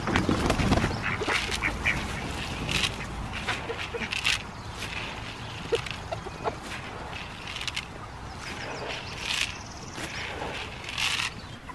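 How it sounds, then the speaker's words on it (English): Ducks at a morning feeding by a barn, a busy flock quacking in overlapping bursts at close range with a constant chatter of calls throughout. "I think the ducks are inside New York City again."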